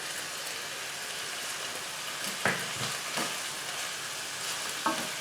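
Onions, garlic and mushrooms fry softly in a pan with a steady, low hiss. A few brief utensil taps and scrapes break through at intervals.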